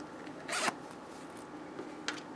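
A small zipper on a little notions pouch is pulled in a quick close-up rasp, followed by a couple of fainter zip tugs, soft in a quiet room.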